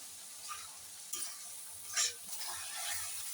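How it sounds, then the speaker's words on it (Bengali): Chopped tomatoes are stirred into fried spices in a pan, with quiet sizzling and a few soft scrapes of the spoon, alone and fairly faint. "টমেটোটা দেওয়ার পরে আমি এটাকে ভালো করে আবার নাড়াচাড়া করে নিচ্ছি"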